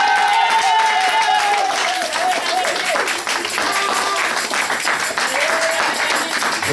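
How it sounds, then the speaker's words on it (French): A church congregation at a Sunday service claps together, with a crackling, uneven burst of applause mixed with voices and some tonal background sound. "Si vous aimez la sœur Thérèse, applaudissez-la."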